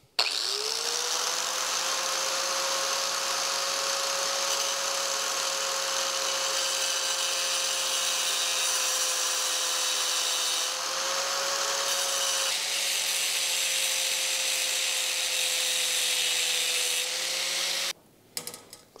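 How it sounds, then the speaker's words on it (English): An angle grinder cuts through the brake boss mount of a Wald 137 bicycle basket, a loud, sustained high-pitched whine with gritty grinding that holds steady for nearly eighteen seconds before spinning down. "I'm gonna have to fix this away that I didn't want to. And that's with the angle grinder."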